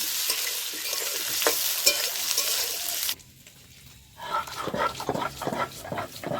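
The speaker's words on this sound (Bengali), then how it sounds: "আলুটা ভালো করে ভেজে নেব" Peeled boiled potatoes fry in a hot pan with a steady bright sizzle, then a spatula stirs them with repeated scraping and shuffling strokes, close and fairly quiet.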